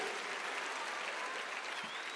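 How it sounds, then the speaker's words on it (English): Steady audience applause fills a town hall networking session, a dense continuous wash of many hands clapping at even loudness from start to finish, with no voices rising above it. "See, you should have clapped for that because you're missing the point of what I'm trying to tell you."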